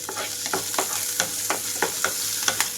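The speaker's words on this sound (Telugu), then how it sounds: "ఇప్పుడు ఇందులోకి కట్ చేసి పెట్టుకున్న ఉల్లిపాయలు, అలాగే పచ్చిమిరపకాయలు వేస్తున్నాను." Chopped onions and green chilies hit a pan of frying cashews, crackling in a soft, steady sizzle broken by regular scraping stirs, close and fairly quiet, with no talk.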